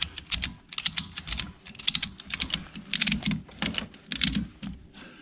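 A ratchet strap being cranked tight on a snowmobile loading ramp, producing rapid rhythmic clicking bursts in quick series, close up, with no talk.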